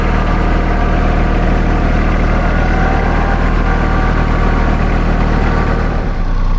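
A TYM tractor engine runs steadily with a new trailer hitched, a loud, close, continuous low rumble and vibration with no pauses.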